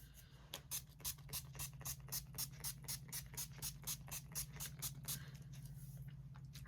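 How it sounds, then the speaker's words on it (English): NYX matte finish mini setting spray misted onto a face, a rapid run of about fifteen short, close pump sprays in an even rhythm over a low background hum. "This is the NYX matte finish mini spray."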